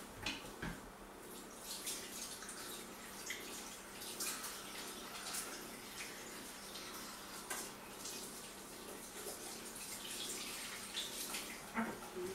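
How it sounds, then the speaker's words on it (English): Hot tap water runs steadily into a sink while hands are washed with soap after handling fish fingers, a continuous close splashing rush with small irregular splatters. "I'm going to go wash my hands in hot soapy water"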